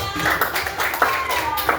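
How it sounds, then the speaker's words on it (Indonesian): A classroom group claps for a team of students, a dense spell of quick overlapping hand claps mixed with voices and cheering. "tepuk tangan untuk kelompok 3"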